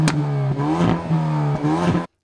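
A 2019 Hyundai i30 Fastback N Performance engine revs hard and close, rising in pitch through repeated surges with brief dips between them, then cutting off abruptly.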